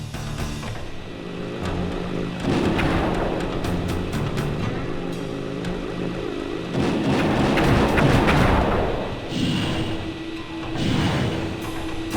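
Vehicle turret firing in the video game Sly 2, a series of heavy thuds and booming impacts in irregular clusters over a rumbling engine bed, with some louder crashes mixed in.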